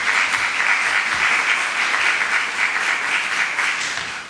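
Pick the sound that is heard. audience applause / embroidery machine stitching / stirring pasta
audience applause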